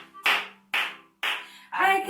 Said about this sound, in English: I can clap my hands.